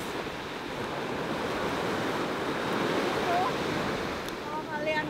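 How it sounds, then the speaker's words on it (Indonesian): Big ocean waves break at Bias Tugel beach near Padang Bay in Bali, producing a constant loud roar of surf and wind that swells slightly toward the middle, with no speech. "Tapi sekarang gak surut guys, besar banget ombak."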